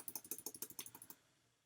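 Someone types on a computer keyboard in a quick burst of about a dozen crisp, close key clicks, then stops.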